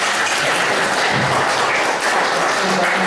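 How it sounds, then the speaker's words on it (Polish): Audience applause greets a guest being introduced at a Polish panel event, a steady dense wash of clapping filling the whole moment without pause. "oklaski"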